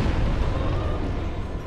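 A large explosion from a demon boss attack in Dark Souls, a loud, dense, rumbling blast that holds steady and then slowly fades.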